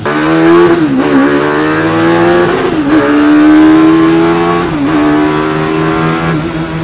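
A high-revving Hayabusa motorcycle engine in a Mazda Miata screams through rapid sequential gear changes, pitch climbing then dipping at each shift, loud and close throughout with no talking.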